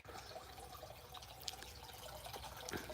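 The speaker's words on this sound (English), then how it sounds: "I have a little bubbler right here" A small pond bubbler runs steadily, giving a faint, continuous trickle and splash of water beside an outdoor fish pond in cold weather, with a few soft drips standing out.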